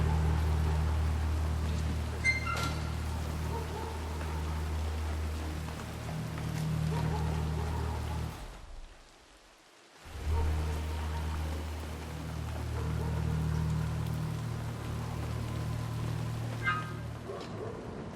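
Steady rainfall hisses throughout a Hitman 3 game scene, with a low droning hum underneath and a brief drop-out near the middle before the rain resumes.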